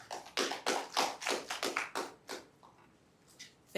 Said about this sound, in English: Please give a round of applause to Kirara.